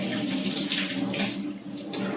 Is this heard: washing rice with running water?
yes